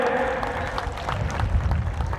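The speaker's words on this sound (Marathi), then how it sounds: "त्यांच्यासाठी जोरदार टाळ्या वाजवूयात" Audience clapping outdoors at a ceremony for a tall saffron flag, a brief burst of scattered applause mixed with crowd murmur, moderately loud and continuous.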